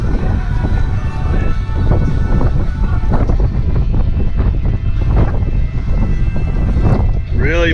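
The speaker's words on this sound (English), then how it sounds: "Southern wind." Strong southern wind buffets a microphone aboard a boat, a steady loud rumbling roar with gusty swells that continues throughout, with faint background sounds underneath.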